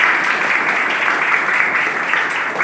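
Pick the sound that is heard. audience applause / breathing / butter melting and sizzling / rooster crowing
audience applause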